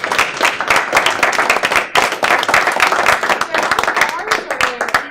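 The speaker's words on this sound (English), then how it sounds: "let's have a round of applause" Audience applause at a school board meeting, a room of people clapping loudly and continuously with dense overlapping claps, a brief dip partway through, and voices mixed in beneath the clapping.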